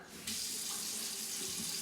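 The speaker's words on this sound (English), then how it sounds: "go ahead and turn your sink on" A bathroom sink faucet is turned on after new drain connections are tightened, and a steady hiss of running water starts abruptly and flows on evenly, close and fairly quiet, with no voices.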